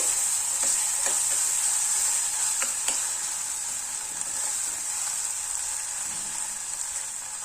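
Ginger garlic paste being stirred into onions frying in a pan for sorrel leaves chana dal curry, a steady loud sizzle with scattered scraping spoon strokes throughout.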